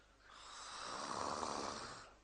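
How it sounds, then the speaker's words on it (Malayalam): A person snores in their sleep, a single long rasping breath that swells and fades, quiet and close, with no other sound. "ഈ കണ്ട നേരം മുഴുവൻ കൂർക്കം വലിച്ചിരുന്നത് നീ തന്നെയല്ലേ"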